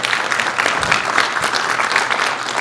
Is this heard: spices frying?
no